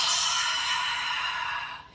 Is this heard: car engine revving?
no